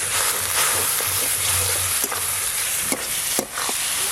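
Spice masala with coriander powder, cumin powder and chopped tomato frying in a pan, a dense close sizzle with a few sharp stirring scrapes and clatters.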